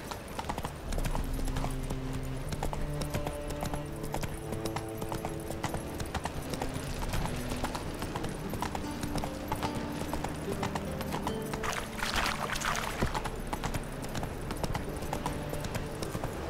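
Horse hooves clip-clopping steadily while ridden in The Witcher 3: Wild Hunt, a continuous rhythmic trot under game music, with a brief whinny partway through.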